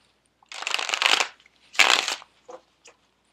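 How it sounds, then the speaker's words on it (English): Tarot cards shuffled casino style, riffled in two long crackling bursts followed by a few short taps as the deck is squared, close and fairly loud with no talking. "They want me to shuffle one more time, casino style."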